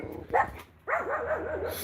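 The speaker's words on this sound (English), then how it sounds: "This dog's going nuts." A dog barks and yelps close by in a quick burst, then lets out a run of wavering whines and whimpers; the dog is agitated and stamping its ground, in an outdoor setting.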